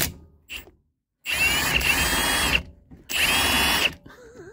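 Two loud bursts of a Milwaukee impact wrench working on the rear subframe of a BMW E90, each lasting over a second with a whirring, hammering rattle, separated by short pauses and a few faint clicks.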